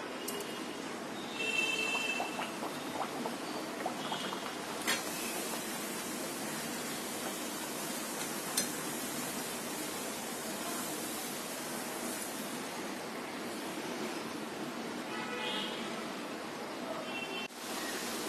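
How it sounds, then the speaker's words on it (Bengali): Masala mint puri frying in hot oil, a steady, even hiss and bubbling sizzle that carries on throughout at a low, constant level, with a few faint clinks and no voices. "এখন আমি তেলে ছেড়ে দিচ্ছি।"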